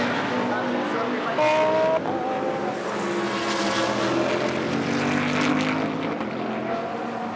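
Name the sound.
BMW GT race car engine on a racing circuit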